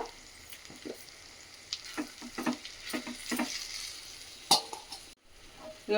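Mustard-seed-style tempering spices with asafoetida crackle and sizzle in hot oil with sharp pops and stirring scrapes, fairly quiet, with a clatter near the end.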